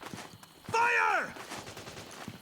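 Gunfire from soldiers in the video game Metal Gear Solid 4, with sharp shots scattered across the clip and a shouted voice in the middle.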